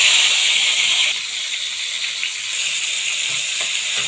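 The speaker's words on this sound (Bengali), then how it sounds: "প্রথমে মাছ ভেজে নেব" Fish fries in hot oil with a continuous bright sizzle, close and steady, easing slightly partway through with no talking.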